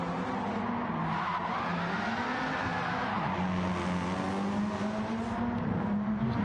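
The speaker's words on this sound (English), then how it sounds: "Oblivion there drifting, of course, 4-wheel drive." A four-wheel-drive rally car in a racing game drifts with its rear sliding out, a steady high engine drone with shifting pitch and gravelly tire noise underneath, loud and close throughout.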